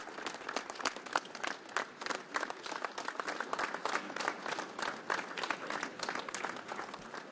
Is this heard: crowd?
yes